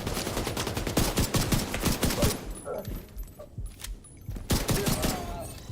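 Light machine gun fire in The Division 2 video game, loud rapid bursts of automatic shots that stop briefly in the middle, then resume in another fast burst near the end.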